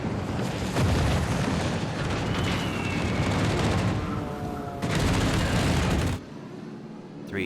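Bomb hits bursting on an enemy ship in the naval combat game World of Warships Legends: loud, dense booming and crackling that sustains for several seconds, then drops off sharply near the end.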